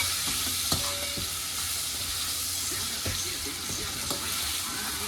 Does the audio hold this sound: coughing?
no